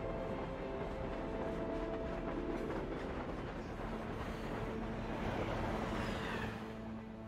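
A train rolls along rails in Crisis Core Final Fantasy VII Reunion, a steady low rumble with faint clatter underneath, continuous and quiet throughout.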